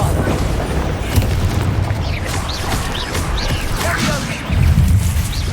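Bombarda blasting spell from Hogwarts Legacy, a continuous loud rumbling explosion with crashing debris and a fresh heavy boom surging near the end, dense and close.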